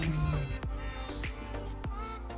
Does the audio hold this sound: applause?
no